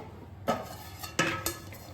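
A steel pot is set down on a hot iron griddle, and a dish is laid over it, while dhokla is being made. Three distinct metallic clanks come up close and fairly quiet in an otherwise still kitchen.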